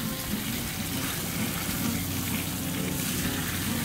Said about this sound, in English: We're gonna flip them over for the third minute.